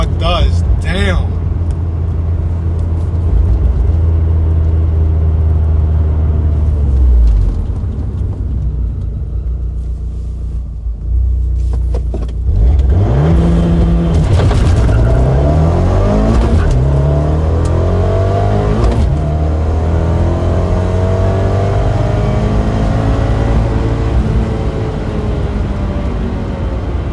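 A big-turbo Abarth 124 Spider pulls hard in third gear on an eighth-mile run, its engine droning loud and rising in pitch over many seconds. Road rumble runs underneath and people talk over it.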